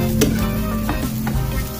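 Rice sautéed with spices in a hot pan for yellow rice, a continuous close sizzle with a few scraping stirs of a spatula across the pan.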